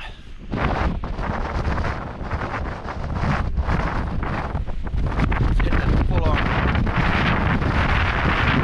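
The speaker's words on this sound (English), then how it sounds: "What can only be described as gales, like gale force again." Strong gale-force wind roars and buffets the microphone at a wild camp in the Lake District, a loud, continuous rumbling battering with gusts that swell and ease.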